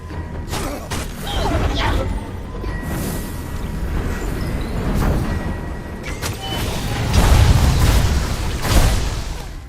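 Explosions in the video game Kena: Bridge of Spirits come as several booming bursts and pops amid combat clatter, the heaviest near the end, with no talking.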